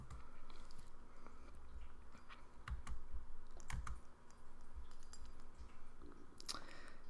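Fingers type on a computer keyboard in a quiet room, with soft, irregular key clicks close by and a few sharper taps over a low steady hum.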